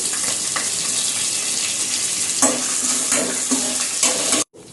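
Slit green chillies and curry leaf sprigs frying in a pan, a loud, steady sizzle with a few bursts of spattering that cuts off abruptly at the end.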